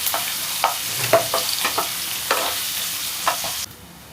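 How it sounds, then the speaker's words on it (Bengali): Sliced onions with a spoonful of ginger-garlic paste sizzle softly in a home kitchen pan for chilli chicken, punctuated by a series of close spatula stirs and scrapes before the sound cuts off near the end. "হালকা আছে পেঁয়াজগুলোকে ভেজে নিচ্ছি আমি।"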